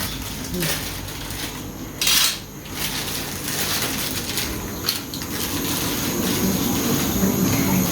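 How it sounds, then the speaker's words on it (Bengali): Pots, dishes and cutlery clatter in a home kitchen as cooking begins, with sporadic metallic knocks and clinks, one louder bang, over a steady background hum. "এদিকে বান্না শুরু করে দিছে সুমিত্রা"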